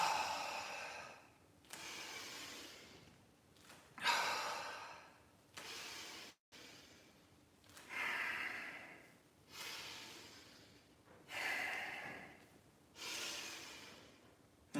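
Deep Qi Gong iron body breathing exercise, about eight strong, breathy inhales and exhales in a slow, regular rhythm, close and airy with short quiet gaps between breaths.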